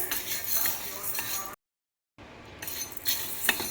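Green gram (moong) dry-roasts in a pan, stirred with a metal spoon that makes repeated scraping and clinking sounds. The stirring breaks off into a brief silence and then carries on.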